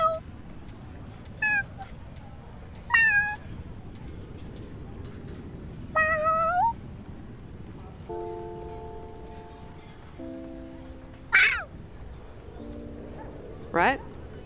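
A voice imitates a cat with a series of short, high meows spaced apart, mixed with other brief tonal sounds over a low background hum.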